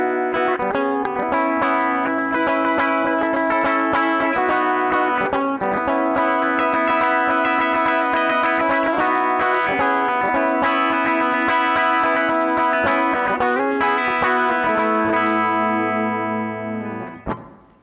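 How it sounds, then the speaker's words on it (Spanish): An Ibanez Jiva electric guitar on its bridge humbucker pickup plays a continuous run of distorted, effects-laden notes and chords with chorus and echo, loud and steady throughout before ringing out at the end. "Vamos a probar el humbucker del puente."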